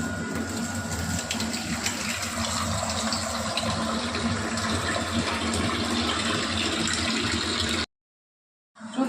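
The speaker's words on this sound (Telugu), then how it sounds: "ఇంకొంచెం ఏమన్నా ఎసురు వేస్తున్నా" Hot water poured steadily into a cooking pot, a continuous close gushing splash that runs for several seconds before stopping abruptly into silence.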